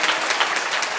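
An indoor audience at a book concert claps together in a brief, dense burst of applause, close and steady.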